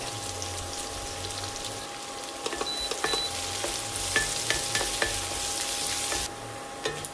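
Shallots, curry leaves and dried red chillies frying in coconut oil after mustard seeds pop, a steady close sizzle with scattered crackles and light stirring scrapes throughout, no talk.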